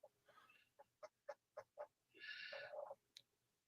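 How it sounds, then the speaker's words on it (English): A chicken clucks in a run of short, sharp clucks followed by a longer drawn-out squawk and a final cluck, fairly faint, with no talking. "We're hearing chicken clucking."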